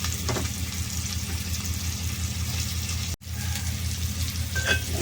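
Sliced bitter gourd (kakarakaya) sizzles in a pan of oil, a steady close frying hiss that runs without a break apart from one brief dropout, with a few faint clinks of a stirring utensil.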